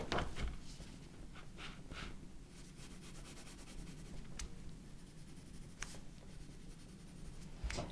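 Pencil scratching and rubbing across paper as a hand draws a square inside a circle, turning the sheet now and then; a steady soft scraping with brief louder strokes, close and quiet, with no talking.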